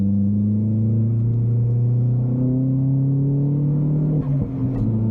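An Astra VXR engine drones loud and steady on the back straight at Donington Park, its pitch slowly climbing under load before a brief dip as it lifts near the end.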